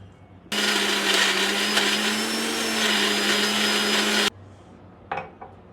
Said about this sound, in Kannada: ಇವಾಗ ಸ್ಮೂತಿಗೆ ಬೇಕಾದಷ್ಟು ವಾಟರ್ನ ಹಾಕ್ಕೊಂಡು ಚೆನ್ನಾಗಿ ಗ್ರೈಂಡ್ ಮಾಡ್ಕೊಳ್ಳೋಣ ಬನ್ನಿ